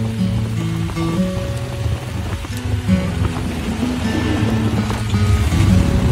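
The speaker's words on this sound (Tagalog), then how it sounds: "Ang lakas ng ulan." Heavy rain pours steadily and loudly on a roof or surface, a dense continuous wash with some tonal background noise underneath.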